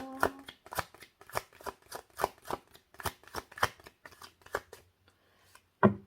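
Tarot cards being shuffled for an advice reading, a steady run of crisp riffling bursts roughly twice a second, close and clear, ending after a short pause with one final sharp snap.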